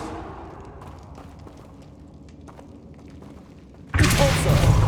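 A Bombarda blasting spell from Hogwarts Legacy erupts suddenly near the end, a loud, dense burst that follows a stretch of lower rumbling game ambience.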